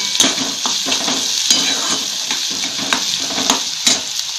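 Chopped onion sizzling steadily in a hot pan with a pinch of salt, stirred now and then with a few louder scrapes, close and continuous with no talking.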